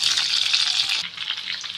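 Green chilies sizzle in hot oil for a dal tadka, a bright, steady frying hiss up close that drops to a softer crackle partway through.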